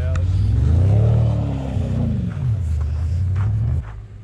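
A Toyota Corolla race car on a skid pad revs hard, its engine pitch sweeping up and falling back in loud, close surges before settling to a steadier drone.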